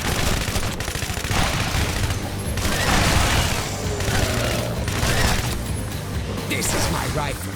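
Rifle gunfire in the video game Shadow Warrior 2, dense bursts of rapid loud shots with booming impacts running nearly throughout, while someone talks over the shooting.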